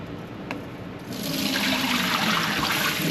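Rice being rinsed under running tap water in a kitchen sink, a steady broadband rush of flowing water that swells louder after the first second and stays continuous, close by, with no talking.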